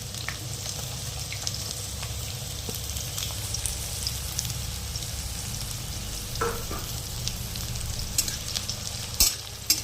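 Thinly sliced onions frying with ginger-garlic paste for a lemon coriander chicken curry give a constant close sizzle and hiss, with occasional clicks and scrapes of stirring near the end, and no speech.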